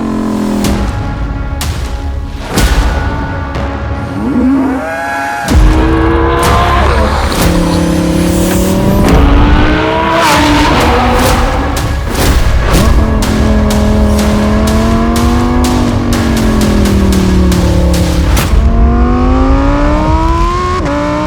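A loud Lamborghini Huracan STO engine with a Novitec aftermarket exhaust revs and climbs through gears, its tone rising and falling repeatedly with sharp bursts between shifts, no talking.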